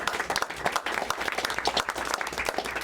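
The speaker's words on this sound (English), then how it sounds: "So please give a big round of applause for Randall Balmer." Audience at a bookstore author talk applauds steadily, a dense, continuous wash of clapping from a roomful of people heard close and fairly loud, with no talking over it.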